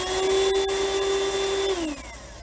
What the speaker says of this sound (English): Let's test this vacuum cleaner first.